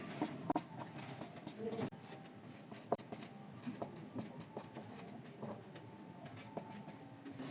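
Pen or chalk writing out a class 10 trigonometry solution, a quiet irregular run of short scratchy strokes and taps with a few sharper knocks, under faint room noise.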